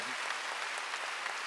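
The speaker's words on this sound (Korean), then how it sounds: "박수 좀 세게 쳐봐요." Church congregation at a Wednesday worship service claps in a short, even burst of applause, moderately loud and without speech.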